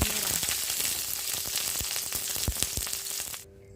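Garlic and shallots fry in a pan with a dense, loud, continuous sizzle and occasional sharp pops and crackles, ending abruptly.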